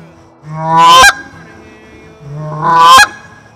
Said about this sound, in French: Bref, c'est un honk, c'est ça.